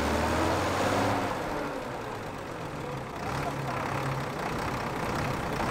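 A David Brown 50D tractor, built 1953 to 1959, runs on a dynamometer at a low, throbbing rumble, loud and close, with a slight dip in the middle before it picks back up.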